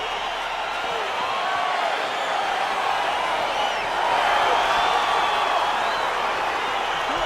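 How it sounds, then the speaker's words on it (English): A UFC 5 video game arena crowd roars steadily as a fight gets underway, with a broad, loud wash of cheering that swells a little partway through. "crowd getting excited as this fight gets underway"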